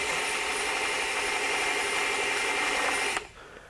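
A Ryobi 18-volt One+ PSD101 mini belt sander with a 1/2 x 18 inch belt bevels an inside lip, making a steady, close abrasive whir for about three seconds before stopping abruptly.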